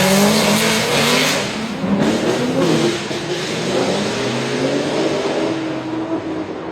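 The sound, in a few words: drift car engine revving loudly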